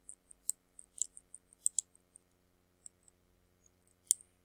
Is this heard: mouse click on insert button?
yes